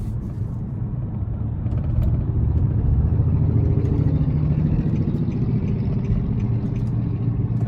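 A 2021 Nissan Maxima SR with a 3.5 V6, driven at night in sport mode, heard from inside as a loud, steady engine drone over road rumble that builds slightly after the first two seconds.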